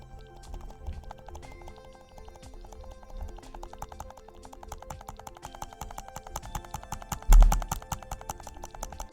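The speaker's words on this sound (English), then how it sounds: "Can you guys hear me clicking the mouse?" Rapid, continuous clicking of a computer mouse during a Cookie Clicker game, a dense run of sharp close taps with one louder thump partway through.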